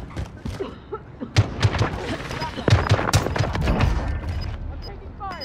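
Gunfire in Call of Duty Modern Warfare, rapid overlapping shots and bursts that keep up almost without a break, loud and close, with voices faintly mixed in.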